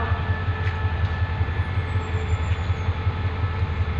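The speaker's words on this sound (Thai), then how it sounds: "ขบวนรถด่วนพิเศษขบวนที่ 7 ก็กำลังทำขบวน เข้าสู่สถานีนครลำปางครับ" Express train No. 7 rolls into Nakhon Lampang station in Thailand with a loud, steady low rumble and rhythmic wheel pulsing, plus a faint high squeal partway through.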